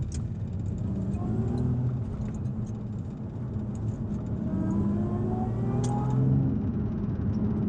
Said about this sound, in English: hopefully you guys can hear me and hear the supercharger whine